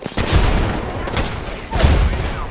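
Hipfire headshot gunfire in a shooter video game: two heavy, booming shots roughly one and a half seconds apart, each with a short rumbling tail, loud and close.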